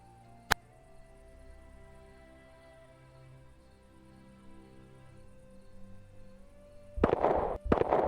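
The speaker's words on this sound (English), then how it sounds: "I'd like the gunshot now." A single sharp gunshot effect cracks once near the start over a low ambient drone during a drop-in roleplay game. A burst of loud, noisy crackling follows at the end.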